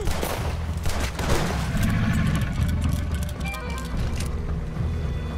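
Gunfire rattles in Red Dead Redemption 2 over a low rumbling engine-like drone, a thick barrage of shots blending into constant noise, with faint voices beneath.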